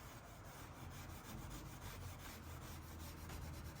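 Steady, quiet rubbing on old timber of an antique mirror frame being cleaned before shellac, a continuous scratchy friction with a faint repeating stroke rhythm and no voices.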